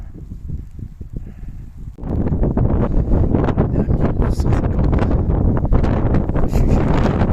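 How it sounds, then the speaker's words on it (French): Strong wind on a mountain climb in Velká Studená dolina, Slovakia, buffets the microphone in a loud, continuous roar that surges stronger partway through, gusting without letup. "ça va mieux, le vent se calme"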